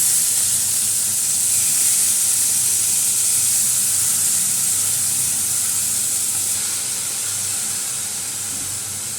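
Cumin seeds and pieces of elephant foot yam sizzle loudly in hot oil, a steady bright hiss that stays close and even throughout and eases off slightly near the end, with no talking.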